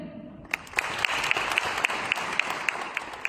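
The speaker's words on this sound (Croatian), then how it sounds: "Pljeskom ćete pozdraviti i gradske vijećnike." A crowd claps steadily at the opening of a town fair in Slavonski Brod, dense applause that starts abruptly and carries on evenly to the end.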